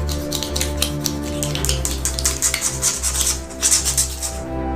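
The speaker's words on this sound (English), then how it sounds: "We cut off the dorsal fin." A blade cuts the dorsal fin off a 100 kg giant swordfish, a gutted whole fish with its gills removed, producing a quick series of close, crisp scraping and slicing strokes over a steady low background hum.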